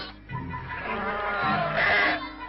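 Sheep bleating at a dipping bath for mange in Djelfa, Algeria, with several overlapping calls from a nearby flock over a steady farmyard din.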